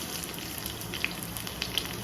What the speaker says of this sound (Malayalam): ഉലുവയും നന്നായിട്ട് പൊട്ടിക്കഴിഞ്ഞാൽ നമ്മുടെ ചെറിയ ഉള്ളി ചേർത്ത് കൊടുക്കാം